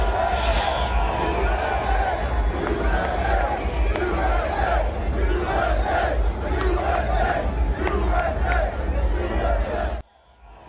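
A large crowd roars a loud, sustained welcome for former President Trump at the Formula One Miami Grand Prix, with dense cheering and shouting that holds steady before dropping off abruptly near the end.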